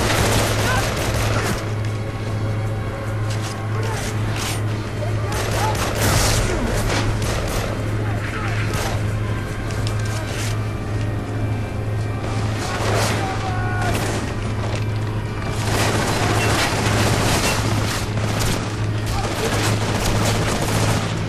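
Pistol gunfire in the video game Army of Two: The 40th Day, dense continuous bursts of shots and booms from a firefight, loud and unbroken throughout, with players talking over the action.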